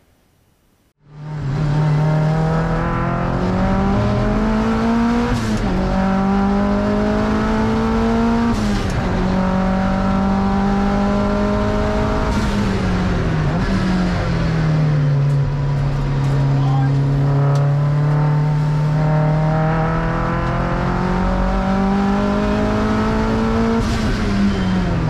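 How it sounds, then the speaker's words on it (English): After a brief quiet moment a car on a race track roars up loudly and stays close, engine pitch climbing and dropping through repeated shifts and corners for a long continuous run, with no talk. "here's some footage of me driving."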